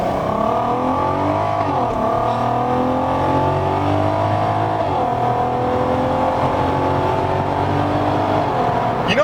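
A Volkswagen Golf R Mk6 with a DSG gearbox accelerates hard, its engine note rising loud and close from inside the car, with quick gear changes audible as brief dips.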